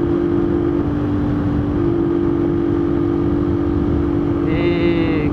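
Brand-new motorcycle engine running through its break-in ride, a steady close drone holding one pitch throughout with faint wind and road noise.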